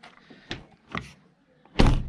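A few thumping Iveco S-Way 530 truck cab door closures, the last one a loud, heavy slam.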